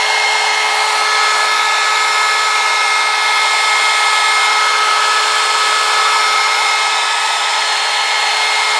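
Cheap hot air gun, a tool made for shrink tube, blowing steadily while shrinking covering film on a Guillows B-24 RC plane; a loud, constant whooshing hum with a fixed whine and no talking.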